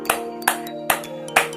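Four separate, evenly spaced hand claps ring out sharply over a steady tonal hum in the background.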